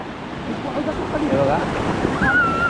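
Strong sea waves at Madban beach on the Konkan coast near Rajapur, Ratnagiri, roaring as a steady broadband wash with wind buffeting the microphone and a faint thin whistle rising near the end.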